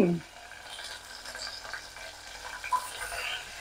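Green chillies fry in hot oil for a raw tomato chutney. A soft crackling sizzle runs throughout with small pops, and a brief thump comes at the very start.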